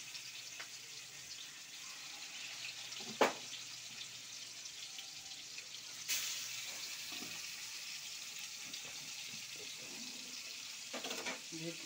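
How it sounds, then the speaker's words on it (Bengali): Bhetki fish, rubbed with salt and turmeric, sizzles in a pan with a steady faint hiss, broken by a couple of brief clatters around the third and sixth seconds. "এবার ভাজছি।"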